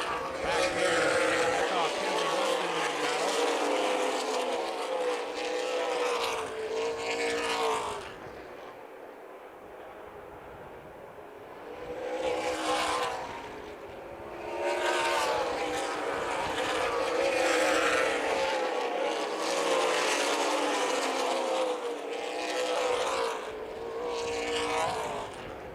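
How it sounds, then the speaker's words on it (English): Race cars from the ARCA/CRA Super Series roar around the Toledo Speedway oval, their engine noise swelling and fading steadily as they pass, heard under continuous announcer commentary. "Good racing all around the Toledo Speedway."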